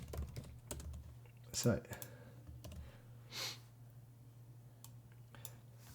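Someone types on a computer keyboard, with close, soft clicks in irregular bursts and a couple of louder thumps. Someone speaks a single word over it.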